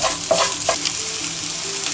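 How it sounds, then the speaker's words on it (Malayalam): Onion with ginger and garlic paste being sautéed in a pan for chicken omanapola, a Malabar dish, with a steady close sizzle and a few stirring scrapes near the start. "ഇനി അതിൻ്റെ ആ ഒരു റോ സ്മെല്ല് മാറുന്നവരെ ഒന്ന് വഴറ്റി കൊടുക്കാം."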